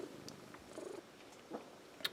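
A cat purrs softly and close by in a quiet room, with a steady low rumble and a few light clicks and shuffles around it.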